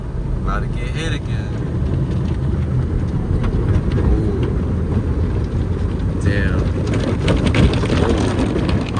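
Rain drumming on a car while it drives, a steady dense patter over low road and engine rumble, with a few brief squeaks and people talking intermittently.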